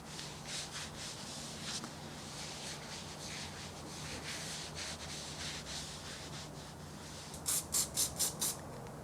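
Self-tanner is rubbed onto skin in circular strokes, giving a soft, steady, close-up swishing friction under low room hiss. A few brief sharp squeaks come near the end.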